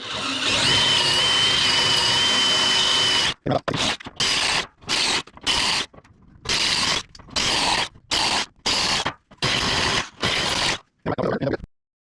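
A drill bores holes through the rusty steel bed of an OBS truck: one long continuous whir, then about nine short sharp bursts with brief pauses between.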